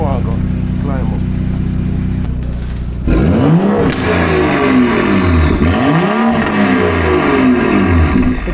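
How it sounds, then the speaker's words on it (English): A car engine switched into sport mode with an exhaust tuned to sound more aggressive idles low for a few seconds, then revs up and down repeatedly, loud and close, the exhaust note climbing and falling in several swells. "Let me rev it a little"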